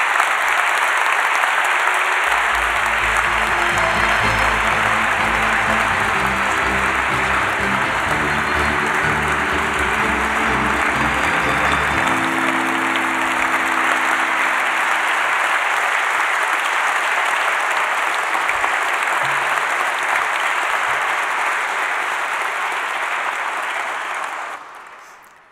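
Long sustained applause at a CNRS gold medal ceremony for the award recipient, a loud steady crowd of clapping lasting over twenty seconds with music in the background, fading out at the end.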